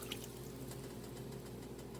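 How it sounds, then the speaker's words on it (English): A cup of water poured into a pot of Haitian-style oxtails makes a steady, soft splashing rush over a low hum, continuous and close for a couple of seconds. "you're also going to add in, for this amount that I'm doing here, probably like another cup of water"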